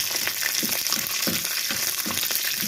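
Curry leaves sizzle and crackle in hot tempering oil, a steady close frying hiss with small popping bursts, no voices.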